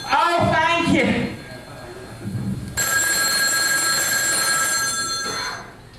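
Telephone bell ringing loudly and steadily for several seconds at a country hoedown stage show, following a few seconds of people talking.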